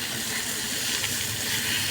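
Water poured into spices frying in a pan gives a steady, even hiss of steam and sizzle, close and continuous for a couple of seconds with no talking.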